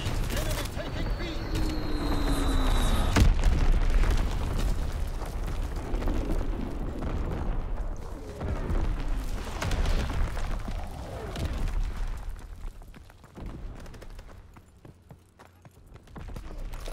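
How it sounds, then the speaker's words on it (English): Artillery bombardment in a WW2 video game, with dense rumbling blasts and booming impacts rolling continuously over a noisy battlefield, loud throughout before easing near the end. "Firing primary battery. Target position confirmed. Explosion on the way."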